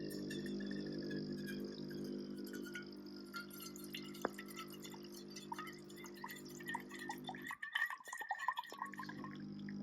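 A Ninja Luxe Cafe Premier Series coffee machine brews with a steady mechanical hum and water trickling and dripping, then the hum cuts out near the end, leaving irregular drips and small clinks close by.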